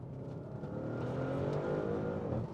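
An Audi RS6 C7 with an 8-speed Tiptronic gearbox accelerates hard, heard from inside. The engine note swells and rises steadily for a couple of seconds before cutting off, with no talking.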